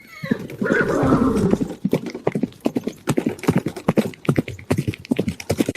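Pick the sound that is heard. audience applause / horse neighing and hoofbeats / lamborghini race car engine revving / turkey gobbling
horse neighing and hoofbeats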